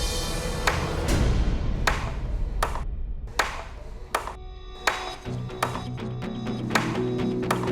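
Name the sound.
repeated knocking sound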